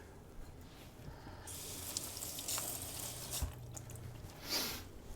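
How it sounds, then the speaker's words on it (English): Tap water runs and splashes as broccoli florets are rinsed, a steady soft stream with faint drips and shifting spatter, fairly quiet with no talking. "We'll cut a little bit of broccoli and wash it off."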